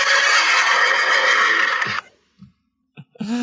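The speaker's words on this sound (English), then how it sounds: "I don't know how many of those horse whinnies came through" A loud, drawn-out horse whinny sound effect fills the first two seconds, then cuts to near silence broken by a few brief soft sounds and a short voice-like squeal at the end.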